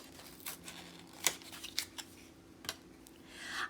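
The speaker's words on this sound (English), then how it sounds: "Let's take it out of the paper." Crinkly paper rustles and crackles as an aluminum-handled tool is unwrapped, with a few sharp crisp pops and scrapes among quieter rustling, close and fairly faint.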